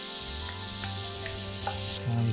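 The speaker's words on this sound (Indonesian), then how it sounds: "jadi kita masukin di sini 3 sendok makan butter" Butter sizzles and fries steadily in a pan for a steak salmon dish, a continuous close crackle with faint stirring and no talk.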